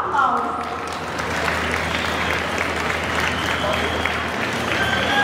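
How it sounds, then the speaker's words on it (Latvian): An audience at a breed demonstration at ZooExpo applauds steadily, with voices and crowd noise mixed in beneath and a low hum underneath. "Aplausi!"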